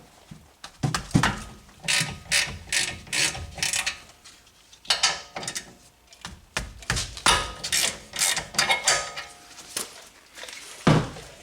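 A ratchet loosening the 7mm hex slide pins on the rear brake caliper of a 2018 Honda Accord: repeated close, loud bursts of rapid clicking, with brief pauses between strokes.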